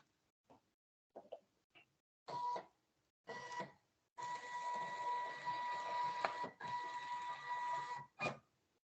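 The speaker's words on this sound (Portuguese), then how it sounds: "uma impressora standard" A Zebra ZT411 industrial label printer at work: a few short mechanical feed bursts, then a long steady whirring print run of several seconds, a brief pause and a final short burst, heard close up with no speech.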